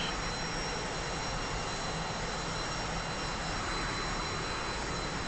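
Steady jet engine roar of a T-45 trainer in the DCS flight simulator game, a continuous broadband rush with a faint high whine holding level throughout, loud and alone with no talk.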